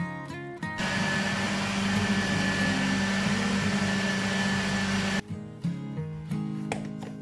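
An electric kitchen blender chops ingredients for perkedel, a loud steady whirring run of about four and a half seconds, then short pulsed bursts with clatter after it stops.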